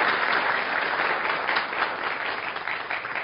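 Studio audience at a TV comedy show bursting into dense, sustained applause, loud and even from start to finish with no talking over it.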